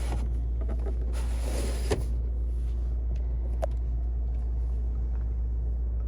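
A started Volvo car engine idles with a low, steady rumble close by, joined by a brief rustle and a sharp click partway through.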